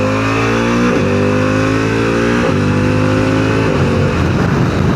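A 2025 Harley-Davidson CVO Pan America motorcycle accelerates hard with a quick shifter, its loud close engine note climbing and dropping briefly at each clutchless upshift, three quick shifts in a row.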